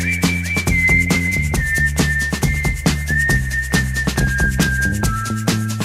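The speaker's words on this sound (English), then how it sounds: "Backed by an endlessly catchy whistle" A bright whistled melody rides over a steady, upbeat song with bass and drums, the tune sustained and catchy throughout.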